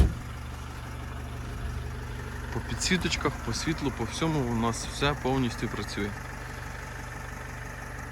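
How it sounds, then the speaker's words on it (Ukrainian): A 2011 Renault Trafic passenger van with a 2.0 diesel, 115 hp, idles with a low, even, steady hum that stays quiet beneath someone talking close by. "Ну, працює дуже тихенько, стабільна така робота мотора"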